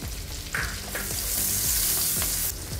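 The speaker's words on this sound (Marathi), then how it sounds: "यात थोडंसं जिरं घालूया, 2 हिरव्या मिरच्या घालायच्या" Cumin seeds and green chillies fry in hot oil and butter over a high flame with a dense, crackling sizzle. Repeated stirring scrapes and clinks run through it, and there is no talk.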